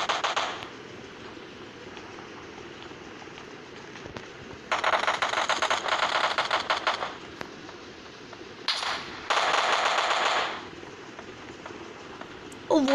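Gunfire in the mobile game PUBG Mobile Lite comes as three bursts of rapid automatic fire, one short and two longer rattling volleys separated by quiet stretches, with a few faint shots between them.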